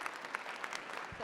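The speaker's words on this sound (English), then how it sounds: "Please give them a round of applause" Audience applause at a tech conference session as two presenters are welcomed to the stage, a moderate wash of clapping with a few sharper claps standing out.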